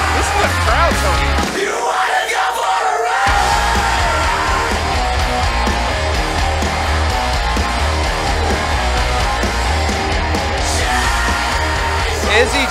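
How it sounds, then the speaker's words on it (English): A loud pro wrestling crowd at the Red River Resurrection 2022 show yells and cheers steadily, with a brief dip in the low rumble before the roar resumes and holds to the end. "This is a crowd, Tony."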